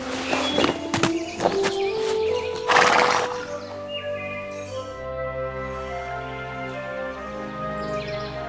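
A horse in an animated fairy-tale scene gives a loud whinny over hollow hoof clip-clops in the opening seconds, then the sound settles into sustained orchestral music.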